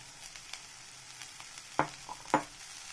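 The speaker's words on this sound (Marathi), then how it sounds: "हे मस्त बारीक कट केलेलं गाजर घालणार आहे मी आता. हे छान हलवून घ्यायची." Finely chopped carrots sauté in a pan for a samosa filling, a soft, quiet sizzle with light stirring scrapes and two sharper spatula knocks near the end.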